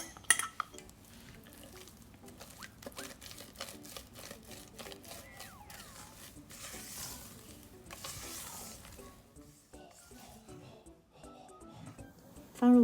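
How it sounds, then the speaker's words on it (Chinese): A utensil stirs overnight-soaked longans gently into cake batter in a bowl, giving quiet scraping strokes and occasional light clinks against the bowl, with brief louder knocks and some talk. "我们加入已经泡过隔夜的桂圆，然后呢也是轻轻的把它搅拌均匀"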